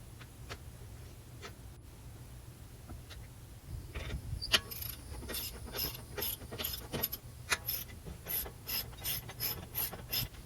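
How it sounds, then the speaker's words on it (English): A 17mm socket on a breaker bar works the brake caliper bolts during a rear wheel steering knuckle and hub assembly job, with scattered scrapes early on, then a steady run of close, crisp ratcheting clicks. "Use 17mm socket and a breaker bar to remove brake caliper bolts."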